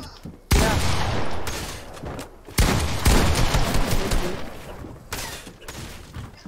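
Rapid gunfire in a Fortnite Arena Duos match, loud continuous bursts of shots with brief gaps and a sharp restart midway.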